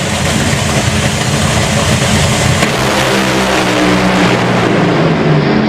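Top Fuel dragsters launch at Santa Pod Raceway with a deafening, sustained engine roar that fills the whole stretch, the pitch shifting as the cars pull away, and no talk is heard.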